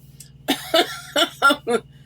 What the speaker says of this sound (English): Got a little cough.